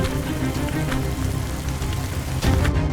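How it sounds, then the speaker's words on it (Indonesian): Light rain falling on a mountain hiking trail on Gunung Prau: a dense, even patter and hiss of drops filling the whole clip, close and steady with no voices. "Langit yang sudah mendung sedari kami tiba di base camp akhirnya berubah jadi rintik-rintik hujan."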